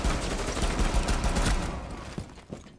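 Rapid automatic gunfire from a weapon in Rainbow Six Siege, a dense loud burst of shots for about two seconds, then a few scattered trailing reports and impacts.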